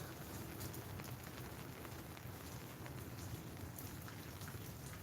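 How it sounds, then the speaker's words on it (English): Continuous rain pattering down in a dense, even hiss, close and fairly loud with no voices. "So it looks like it's been raining for long."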